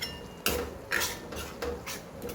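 A metal spoon scrapes and knocks against a pan while spices are mixed into food, three or four distinct close strokes in quick succession.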